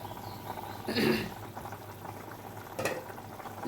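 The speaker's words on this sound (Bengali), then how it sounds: "ঝোলটা পুরো ফুটে গেছে।" Curry gravy for a Bengali raw banana kofta boiling in a pot, a steady low bubbling with two brief louder sizzling bursts as the lid comes off, quiet and close.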